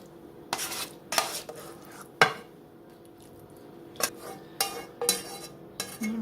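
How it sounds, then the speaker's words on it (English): A metal spoon scrapes and clinks against a baking dish while ground beef mixture is spooned in for taco lasagna, giving about eight irregular sharp knocks and soft squishy scrapes, close by with no talk. "now spoon the remaining half of the ground beef mixture"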